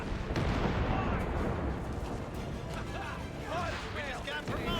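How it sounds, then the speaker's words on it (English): Explosions and artillery-like blasts rumble through a battle in the strategy game Company of Heroes 3, with a grenade going off amid continuous loud combat noise and some whistling, over a dense, sustained backdrop. "Send the grenade."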